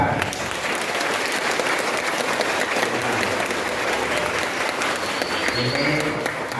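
A crowd at a school zakat distribution event claps for a junior high school, the steady, dense applause filling the whole stretch without letting up.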